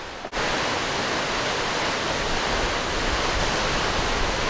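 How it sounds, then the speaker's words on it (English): Rainbow Falls, a 300-foot waterfall, roars as a dense, unbroken wall of white noise, loud and constant after a brief bump at the start, with no voices over it. "Rainbow Falls and it's one of the main attractions of this area. It's like 300 foot waterfall."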